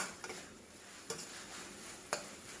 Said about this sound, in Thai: ผัดจนคิดว่าข้าวโพดอ่อนเริ่มจะสุกแล้วนะคะ